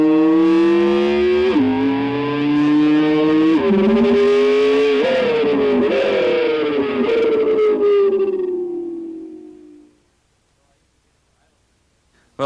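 An electric guitar imitates a Ferrari downshifting after third gear, a loud sustained tone stepping down in pitch through several shifts, each with a short drop and rise, then fading out into silence.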